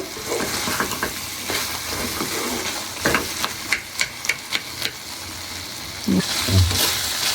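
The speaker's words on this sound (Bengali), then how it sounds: "তো হালকা আমি ম্যাশ করে করে নেড়ে চেড়ে দিচ্ছি" Boiled potatoes being mashed and stirred in a pan for liver singara filling: a steady sizzle under repeated scraping and clacking strokes of a spoon, with a few sharper knocks midway and heavier thuds near the end.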